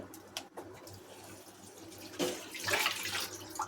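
Water is poured into an aubergine and potato curry cooked with bombil, starting with scattered clinks and trickles, then swelling into a louder, sustained splashing pour in the second half.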